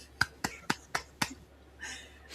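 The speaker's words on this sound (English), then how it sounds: "I'm sorry, it was me seal clapping" Hands seal clapping, five sharp close claps in a quick, fairly even rhythm, followed by a brief soft voice sound.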